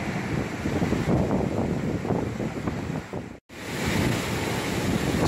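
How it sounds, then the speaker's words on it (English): Fast-moving water rushes through the dam at Lockport, Manitoba in a loud, continuous broadband roar heard from the bridge above, mixed with wind buffeting the microphone and a brief dropout near the end. "as you guys can see, the water is rushing pretty fast"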